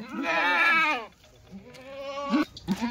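A Kathiyawadi goat bleats in a long, wavering call up close, followed by shorter bleats and quieter calls, with faint talk in the background.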